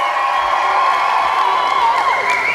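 A graduating class at a 2022 convocation ceremony in Saskatoon cheers in a loud, sustained wall of voices with rising whoops, carrying on without pause for a few seconds.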